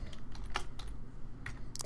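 Keys clatter on a computer keyboard in a short, uneven run of taps, close by and moderately quiet, with no voices.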